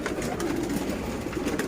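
Pigeons coo softly and repeatedly inside a breeding loft, with low, throaty calls overlapping against a steady background murmur.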